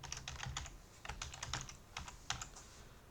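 Someone types a password on a computer keyboard, quiet rapid key clicks in quick bursts with short pauses, close and alone.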